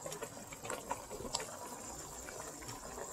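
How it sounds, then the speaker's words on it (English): Hot seasoning poured from a container into a cooking pot of oxtail, a quiet, steady liquid gush with faint splashes running throughout, close up and without talk. "I'm going to pour the hot season in the pot."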